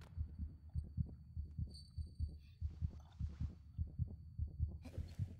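A steady heartbeat from the video game Among the Sleep, a close, low double-thump pulsing at an even rhythm with a faint background hum and brief hiss.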